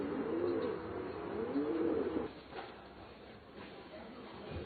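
Racing pigeons coo in their loft in Taiwan, a close rolling warble with undulating pitch that stops after about two seconds and gives way to quieter rustling and soft calls.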